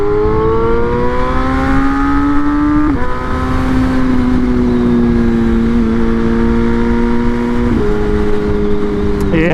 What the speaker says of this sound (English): Right there, third gear, high revs